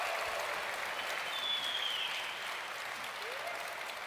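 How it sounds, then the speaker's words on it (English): Sustained applause from a large QuakeCon gaming convention audience, a steady wash of clapping heard alone at moderate distance without speech. "Let's give everybody a round of applause."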